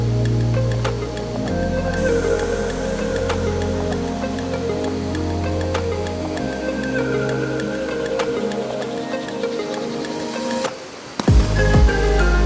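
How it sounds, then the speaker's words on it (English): Waterfall on Koh Chang island still running full in December, a continuous broadband rush of falling water that stays even and unbroken, apparently with background music layered over it. "The waterfall itself still had plenty of water even in December."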